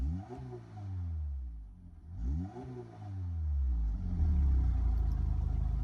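A 2005 Lotus Elise's 1.8-liter Toyota engine revs up and down several times with rising and falling pitch, then settles into a louder, steady rumble.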